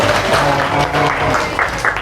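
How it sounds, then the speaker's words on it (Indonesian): A class of students claps together in a short burst of applause at close range, lasting about two seconds. "Tepuk tangan untuk kalian semua."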